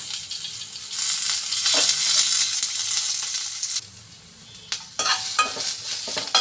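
Onion, garlic and curry leaves fry in a couple of spoons of hot oil, giving a steady loud sizzle with stirring scrapes and a few sharp clinks near the end.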